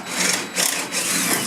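Drill cutting a hole in the bottom of a metal electrical sub panel, a brief close grinding burst with a short dip in the middle, loud and harsh.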